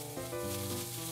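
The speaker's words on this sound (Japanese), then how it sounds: "解凍したつくねも加えます。" Thawed tsukune chicken meatballs go into a hot pan with vegetables, setting off a steady, close, hissing sizzle with a faint tonal hum beneath it.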